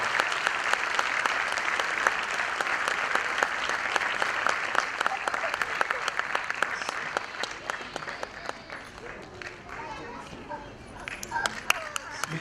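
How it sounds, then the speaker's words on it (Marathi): Audience applause at a Marathi stage event, a dense, sustained wave of clapping from a large crowd that thins into scattered claps toward the end. "न थांबता न थकता जोरदार टाळ्या वाजवून"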